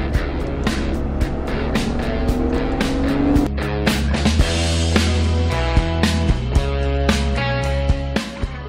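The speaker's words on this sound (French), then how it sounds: "ما نسمعوا كان les accélérations تاع ال V6" Jeep Wrangler V6 engine with an eight-speed ZF automatic, revving up through repeated accelerations with rising roars and sharp shifts, loud and close.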